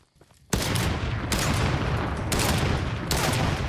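Gunshots in the Shmentai vs. Evil video game, a loud rapid volley that starts abruptly and keeps going with several heavy surges, with no talking over it.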